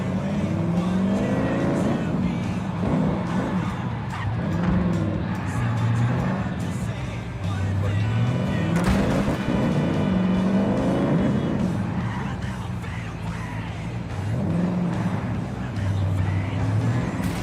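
A taxi's engine in a video game driving job, revving up and easing off in repeated rising and falling sweeps at a steady, moderately loud level.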